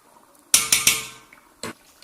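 Thick cashew, almond and poppy seed paste hitting a pan of frying masala, three quick wet slaps in a row followed by a softer sizzle, then one more scrape or plop after a short gap.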